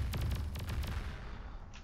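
Thud artillery units firing in the strategy game Beyond All Reason, a rapid series of deep booming shots layered over continuous low rumble, loud and close without any talk.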